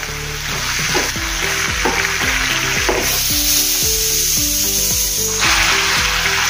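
Chole masala and spices stirred and roasted in a pan, with a loud, constant sizzle and a rhythmic series of scraping strokes from the spoon running underneath.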